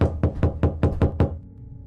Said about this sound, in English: Somebody knocked.